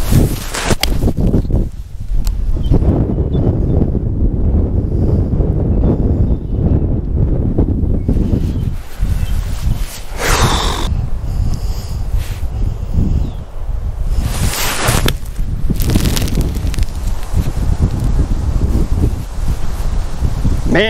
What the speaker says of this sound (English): Man, the wind.